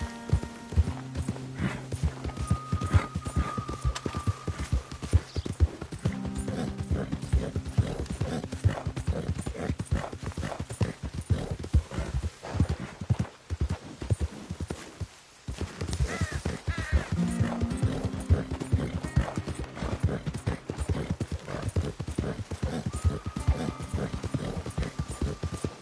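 A ridden horse in Red Dead Redemption 2 clip-clops steadily for a long stretch, hoofbeats close and rhythmic, with a brief pause and game music tones layered beneath.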